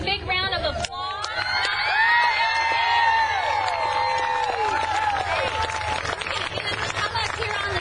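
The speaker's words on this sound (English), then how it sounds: "Let's give them a big round of applause." A crowd at a welcome-home celebration for a bluegrass band cheers and applauds loudly, with excited whoops, shrieks and voices riding over steady clapping after a brief sound at the start.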